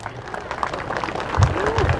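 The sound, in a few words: audience applause at a speech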